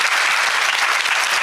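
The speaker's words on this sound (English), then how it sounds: "please, a round of applause to our panelists" A conference audience at an Asian insurance forum applauds its panel, a loud, dense and continuous burst of clapping that fills the short stretch from start to finish.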